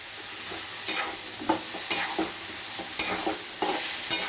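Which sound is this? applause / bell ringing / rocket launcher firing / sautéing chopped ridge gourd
sautéing chopped ridge gourd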